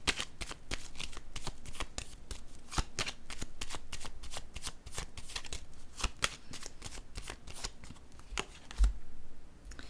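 A deck of cards being shuffled, with steady, rapid riffling snaps repeating close up for several seconds without talk.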